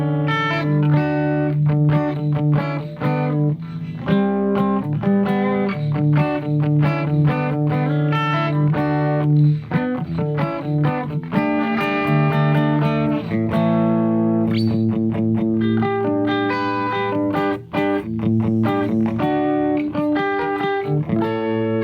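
Electric guitar played through a BOSS eBand with its compressor engaged, giving a sustained, slightly distorted tone with chorus-like shimmer; a continuous run of riffs and held notes, close and alone without voices.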